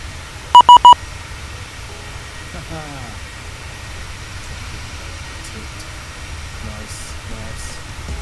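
A Boeing 737 cockpit warning in Microsoft Flight Simulator sounds three quick, sharp electronic beeps, followed by faint cockpit hum with occasional soft tones and brief voices.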